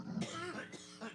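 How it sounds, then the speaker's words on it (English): A single adult's cough or throat-clearing sound, fairly close and moderately loud, a short rough burst followed by a second, softer one within about a second, with no talk over it. "I'm coughing because I want to laugh."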